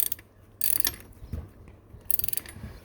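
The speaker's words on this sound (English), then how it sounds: "So I'll tighten this mechanical tensioner first." Ratcheting clicks and metallic mechanical clatter come in short bursts as a mechanical timing belt tensioner is tightened on a VW MK4 GTI engine, close up with no talking.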